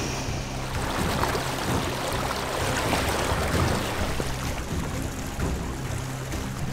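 Strong current of cold river water rushing continuously around someone wading in the English countryside, a dense, steady wash of noise without pause.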